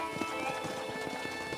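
Rapid hoofbeats of a galloping horse in the video game Red Dead Redemption pound steadily over a busy, layered backdrop, with a brief whinny near the start.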